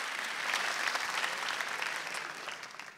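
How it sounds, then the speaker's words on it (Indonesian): Audience applause at a stand-up comedy show, a thick, even burst of many clapping hands from a large crowd, loud and continuous before tapering slightly at the end. "Tepuk tangan dong buat kalian semua."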